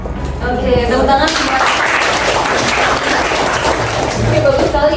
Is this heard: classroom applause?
yes